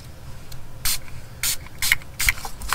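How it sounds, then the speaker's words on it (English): Marabu silver mixed media art spray comes from a can in four or five short, sharp bursts of hiss, each lasting a fraction of a second and separated by brief pauses, close to the microphone. "This is mixed media spray, art spray from Marabu."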